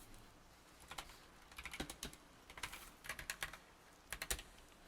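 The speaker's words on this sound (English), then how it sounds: "do some typing here" Quiet, close clicking of keys on a computer keyboard in irregular bursts of rapid taps, with no voices.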